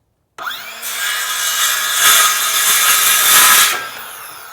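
A handsaw rasps through a 1 by 2 pine board in a rough cut, with continuous close, loud strokes for about four seconds after a brief silence.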